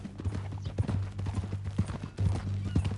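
Horse hooves in Red Dead Redemption 2, a few close, uneven clopping steps over a low rumble during a short three-second moment, with no clear speech.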